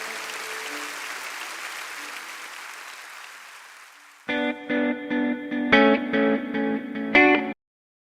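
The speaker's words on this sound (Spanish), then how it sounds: "Dale un fuerte aplauso al Señor." A church congregation claps loudly in praise, the applause swelling and then slowly fading over a few seconds, followed by a burst of sustained electronic keyboard chords.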